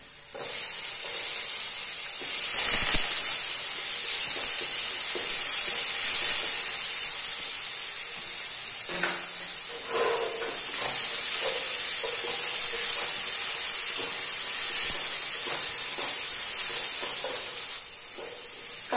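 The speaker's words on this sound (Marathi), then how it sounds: "कांदा आला लसूण पेस्ट आणि टोमॅटो चांगला मी तेलात परतून घेतलाय" Onion, garlic paste and tomato frying in oil in a pan, a steady bright sizzle and hiss throughout with occasional stirring scrapes, no talk.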